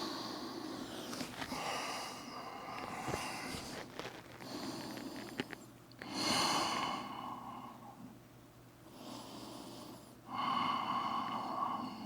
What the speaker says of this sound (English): Remember your Ujjayi breath.